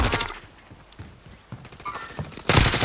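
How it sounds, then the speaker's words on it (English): Call of Duty gunfire, bursts of distant-to-mid shots and rattling automatic fire, with a loud burst near the end. "A big gunfire on the front of us."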